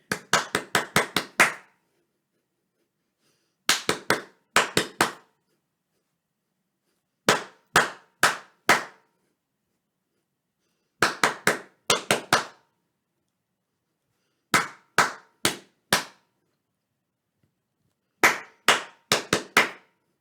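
Hand claps beat out short rhythmic patterns in a children's music lesson clapping game, sharp crisp claps in tight groups of three to six, each group separated by a few seconds of silence.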